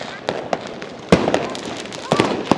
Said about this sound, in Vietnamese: có rất là nhiều pháo hoa quốc phòng luôn